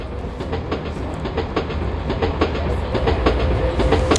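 A passenger train carries riders to an airport station, its steady rolling rumble broken by a regular clickety-clack of wheels over rail joints. The sound is close and continuous, with no talking.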